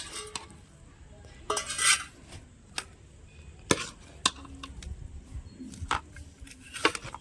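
Maggi noodles being stirred in a cooking pot among friends at a noodle party, with scattered metallic scrapes and clinks of utensil against pot, some sharp and close, over a low background hum.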